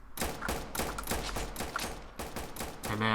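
Rapid automatic gunfire from the Valorous Expedition video game, a fast steady stream of repeated shots, loud and continuous with a brief pause near the end, no talking.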